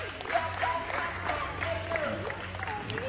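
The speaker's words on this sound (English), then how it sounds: "Clap it up. Yolks are yellow. Give it up." Steady applause from a small crowd, continuous clapping with voices mixed in throughout.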